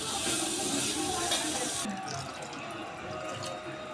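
Water poured into a pot of frying masala with beetroot and tomato for masala rice, a loud splashing stream at first that cuts off, leaving quieter sizzling and bubbling.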